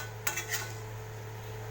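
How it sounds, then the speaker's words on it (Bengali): Chicken curry is stirred and fried in a pan over a high flame: a few quick metal utensil clinks at the start, then a steady soft frying hiss, with no one talking. "এটা একটুখানি জোরে দিয়ে এবার কষিয়ে নেব।"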